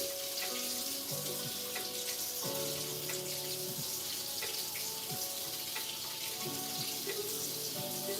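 A kitchen tap runs steadily while a whisk is rinsed under it during home cooking, a constant faint splashing stream with light clinks of metal, no voices.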